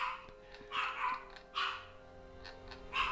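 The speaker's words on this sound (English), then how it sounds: "Hey, dogs! That's enough." Several dogs bark in short bursts, a few sharp yips and barks spread across the moment, fairly close and loud in a noisy household with no talking.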